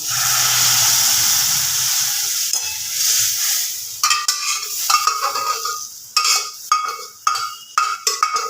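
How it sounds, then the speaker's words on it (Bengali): Boiled red lentils are tipped into a hot frying pan, where a loud sizzling hiss fades, then a spoon stirs and scrapes in short, uneven bursts against the pan. "এবার ডালটা দিয়ে দেবো ডালটা আমি কুকারের মধ্যেই সেদ্ধ করেছিলাম এর মধ্যে দিয়ে দিলাম"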